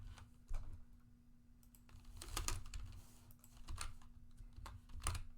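Typing on a computer keyboard while entering random keys into a contractor software demo, with bursts of quick, close key clicks in an irregular rhythm over a steady background hum, and no talk.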